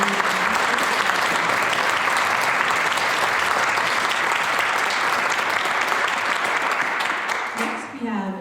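Sustained applause from an audience at a county youth awards ceremony, steady and full for several seconds before tapering off at the end.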